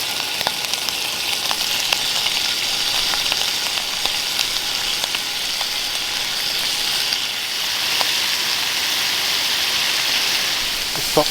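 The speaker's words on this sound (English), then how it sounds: "And with a little bit of coconut oil, you don't actually need much, because the bacon should produce quite a bit of fat." Bacon strips sizzling in a little coconut oil in a pan over a spirit stove in the woods, a steady dense crackle with scattered pops running throughout, moderately loud and close, no voices.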